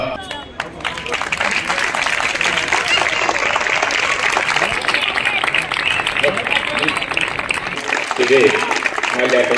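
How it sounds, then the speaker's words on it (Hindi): An audience at a felicitation ceremony bursts into sustained, dense applause, a loud continuous wash of clapping with faint crowd murmur beneath that carries steadily throughout. "आपकी तालियां बजते रहना चाहिए साहब"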